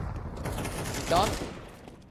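Rapid gunfire spraying through smoke in a CS2 match, a quick burst of rattling shots heard faintly beneath a caster's commentary.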